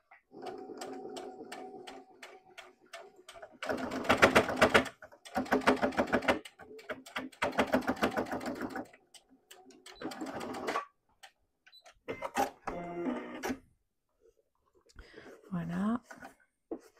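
Domestic sewing machine stitching a Marley wallet, its rapid needle chatter running in several bursts of a few seconds each, broken by pauses and softer handling sounds, with someone talking quietly in between.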